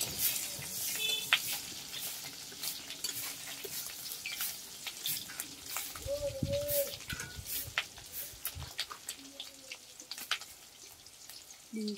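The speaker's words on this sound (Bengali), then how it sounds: "আমি আজকে মাছের ডিমের বড়া ভাজা করছি।" Fish roe fritters frying in a pan, a soft continuous sizzle with occasional crackles and a few stirring clinks, fairly quiet and close.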